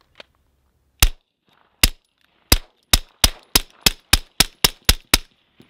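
A Glock pistol firing full-power 115-grain rounds: about a dozen sharp, loud reports, the first few spaced out, then a fast steady string of shots, each with a brief ringing tail.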